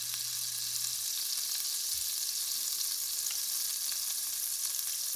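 Butter melting in a pot on an induction stove, a soft steady high-pitched sizzle and hiss at low volume, with a faint hum fading early and no speech.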